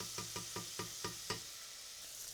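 Onion, celery, chili and garlic sauté in a pan under a bright, even sizzle, with six evenly spaced stirring taps early on before the frying carries on alone; close and moderately quiet, no talk.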